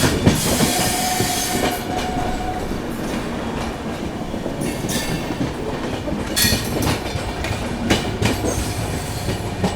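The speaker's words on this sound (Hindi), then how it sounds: "यहाँ अपनी मुलाकात हो रही है लालगढ़ डिब्रूगढ़ अवध असम एक्सप्रेस से" Lalgarh–Dibrugarh Avadh Assam Express at Khagaria Junction station, a loud steady rumble of rolling train wagons with clickety-clack wheel beats and occasional metallic squeals, continuous and close throughout.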